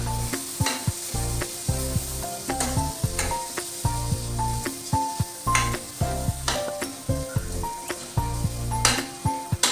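Vegetables for pav bhaji sizzle in a hot pan while a spoon stirs and knocks against the metal in steady, repeated strokes, close and clear with no talking.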